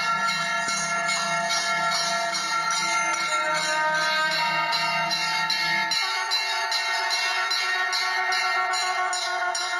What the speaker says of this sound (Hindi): आपके चारों ओर मंदिर की घंटियां और शंख ध्वनि होने लगी है